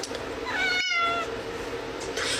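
A house cat gives a single clear, drawn-out meow close by in a quiet room, with faint background noise before and after.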